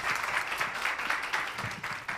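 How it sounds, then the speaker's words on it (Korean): Audience applause fills the hall at a university history department's 70th anniversary talk concert, a dense steady clatter of many hands clapping throughout. "여러분 저 큰 박수로 맞이해 주십시오"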